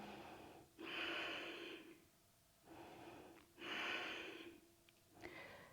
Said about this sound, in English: taking deep breaths here